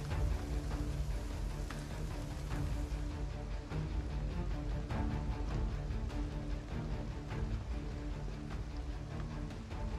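Steady, dense rain falls in the Project Zomboid video game, a continuous even hiss of drops with scattered patter, constant and moderately loud without voices.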